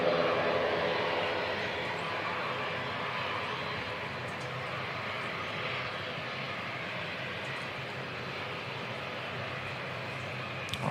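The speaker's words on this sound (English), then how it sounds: "we've got the Queenstown ATR inbound as well" An ATR turboprop airliner on approach into Christchurch Airport, its steady broadband engine drone filling the clip at a constant, moderately loud level, with faint talk audible beneath it on a wet, windy day.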